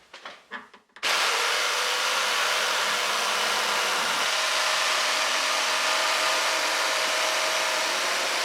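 A jigsaw makes a crosscut through wood, starting after a few short bursts and then running as one loud, steady buzzing cut at close range.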